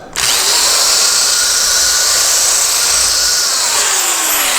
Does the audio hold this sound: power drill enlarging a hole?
yes